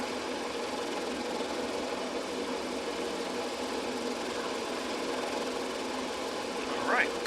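Simulated piston engine of a C-47 Skytrain taxiing in Microsoft Flight Simulator, a steady droning rumble running throughout at even level, with a brief louder swell near the end.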